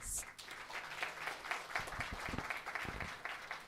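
An audience at an academic event for Vesak Day gives the committees a round of applause; dense, sustained clapping fills the room, loud and close, with no speech over it.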